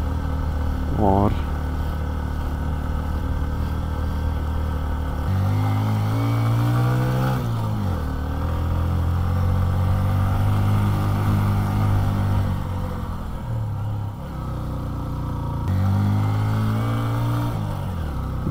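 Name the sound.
motorcycle engine straining uphill in first gear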